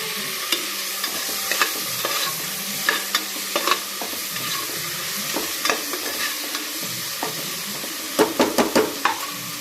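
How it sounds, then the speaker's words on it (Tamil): Tomatoes and slit green chillies sautéing with onions in a pan for an okra curry, with a steady soft sizzle broken by intermittent scraping stirs and spoon clicks, clustering more densely near the end. "அதையும் சேர்த்து இதில் கலந்து நல்லா வதக்கிக்கோங்க"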